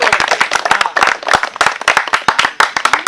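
A small audience at a Hindi Diwas literary and cultural evening claps in welcome, with close, crisp, uneven handclaps that continue in rhythmic bursts.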